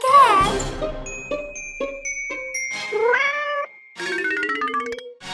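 A cat meows several times in a row, clear and close, with a few light jingling tones mixed in and no talking.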